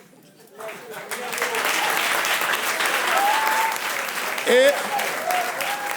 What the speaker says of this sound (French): j'aimerais qu'on fasse des applaudissements très spéciaux pour ce jeune homme qui